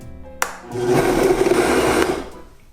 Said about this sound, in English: Let's just blend it a little bit.